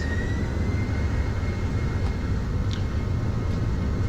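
Steady, loud roar of airplane engines at takeoff thrust on a flight from Nova Scotia to Bermuda, heard from inside the aircraft as a constant broadband rumble with no gaps.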